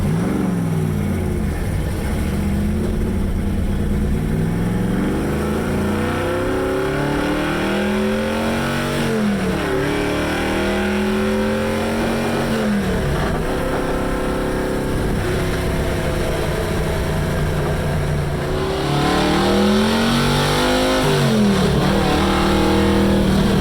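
A 1971 Oldsmobile Cutlass muscle car engine revs hard and close, its loud throaty roar climbing and dropping in repeated sweeps with a rough idle between blips and no voices.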